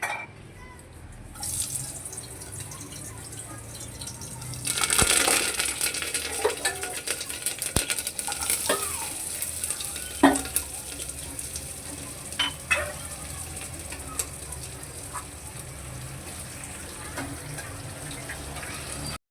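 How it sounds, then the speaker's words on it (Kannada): Tempering for drumstick sambar spluttering in hot oil, a faint hiss that bursts into a louder sizzle with scattered sharp pops and crackles going on for several seconds. "ಈಗ ಪಟಾಪಟನ ಒಗ್ಗರಣೆ ಹಾಕಬೇಕು."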